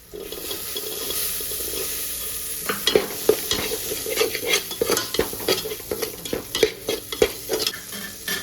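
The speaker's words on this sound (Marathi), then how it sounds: "आता टाकूया कसुरी मेथी आणि टाकूया वाटाणे." Dried fenugreek leaves and green peas hit hot oil in a pan for paneer biryani, turning a steady hiss into a busier crackling sizzle, followed by repeated close scraping stirs and clatter with no talk.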